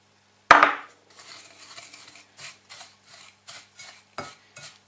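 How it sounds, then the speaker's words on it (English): A spoon scrapes and stirs melted butter through a thick, crumbly mixture in a bowl for a cheesecake base: one sharp clatter, then a steady run of short, rhythmic strokes, close up, with no talking. "And mix in the butter."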